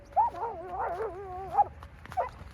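A dog whimpers and whines in rising, wavering high cries, with short yelps breaking through, close and fairly loud over a low background rumble.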